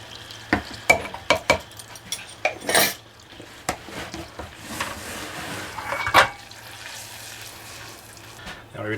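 Minced garlic cooks in melted butter in a pan, made for copycat Cheesecake Factory mashed red potatoes. Loud clanks of a metal utensil on cookware sit over a low, steady sizzle close by, with no talking.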